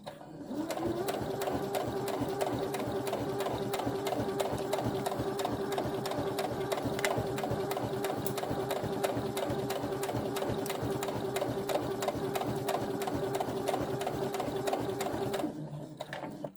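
A sewing machine stitches a straight fabric seam in one long, fast, continuous run of rapid needle clatter over a steady motor hum, close by, then stops abruptly near the end.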